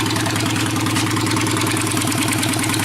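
A motorcycle engine idles steadily up close, a loud, even, pulsing rumble with a regular chugging rhythm and no voices over it.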